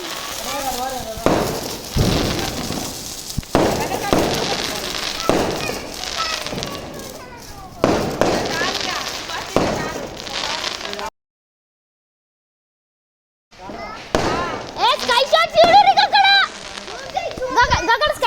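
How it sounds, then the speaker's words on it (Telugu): Diwali sky-shot fireworks burst in a string of sharp cracks and pops at night, some loud and close, amid children's voices and festive chatter, broken by a short silent gap. "స్కై షాట్స్ అన్ని చూపిస్తున్నా"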